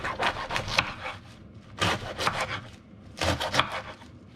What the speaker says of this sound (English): I'm just roughly chopping it.